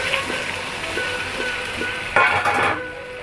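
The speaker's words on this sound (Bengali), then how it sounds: "জলটা দিয়ে ভালো করে নেড়ে চেড়ে মিশিয়ে নিব" Aloo, papad and broccoli curry is stirred after water is added, with soft scraping and light clinks of a spoon against the pot over a gentle sizzle, ending in a brief louder splash.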